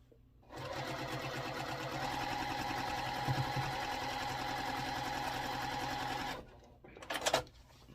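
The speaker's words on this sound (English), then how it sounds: "flip them over on themselves and sew it together and finish the block up" A sewing machine stitches quilt block pieces for a Chisholm Trail sampler block, a steady close whirring run lasting several seconds before stopping, followed by a brief handling clatter.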